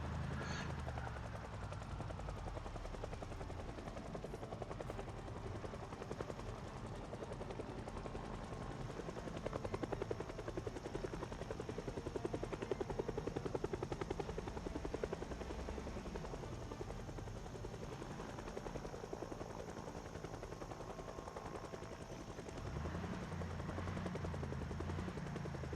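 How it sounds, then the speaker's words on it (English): A helicopter flies overhead near a mall footpath, its rotor thudding steadily for the whole stretch, moderately distant and fairly faint, with slight swells in loudness and no talking. "I'm just gonna stand here on the open and tell the helicopter to suck it."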